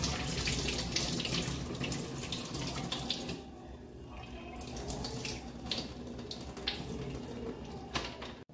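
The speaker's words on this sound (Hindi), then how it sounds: "अब इस पानी को मैं निकाल दूंगी" Water running and splashing as it is poured off washed whole green moong dal in a home kitchen, a steady close pouring flow with brief dips, alone without talk.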